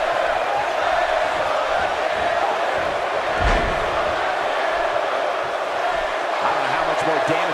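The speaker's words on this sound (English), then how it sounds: "Listen to the crowd." Arena crowd roaring steadily throughout a WWE 2K18 wrestling match, a broad continuous wash of cheering with a brief thud near the middle and faint commentary woven underneath.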